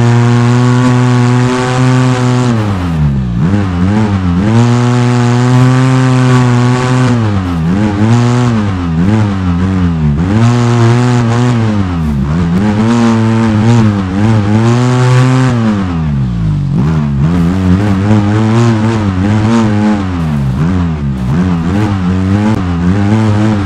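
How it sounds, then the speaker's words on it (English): An off-road vehicle in the Overpass game accelerates through mud, its engine droning loud and close with repeated rising and falling revs as it struggles for grip, continuous throughout. "Now, let's try driving over mud. It'll be harder to accelerate and turn."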